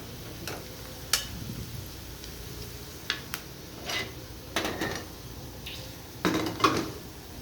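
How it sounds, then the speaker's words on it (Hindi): Fried potatoes and onions are scooped from the pan onto a plate, producing a series of irregular metallic clinks and scrapes of utensil on cookware. The sounds are spaced a second or so apart, close and moderate over a quiet background, with nobody speaking. "तो अब इसको हम निकाल लेते हैं एक प्लेट में।"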